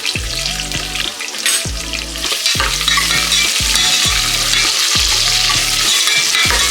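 Lengthwise-sliced medium onion frying in oil for mushroom biryani, a loud close sizzle broken by rhythmic scraping stirs of a spatula against the pan, repeating roughly every second.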